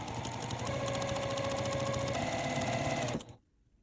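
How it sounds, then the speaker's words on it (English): A sewing machine runs steadily, stitching a quarter-inch seam along quilt pieces with a fast, even mechanical whir, close and loud, then stops abruptly near the end. "you're going to sew down this edge using a 1/4 inch seam allowance"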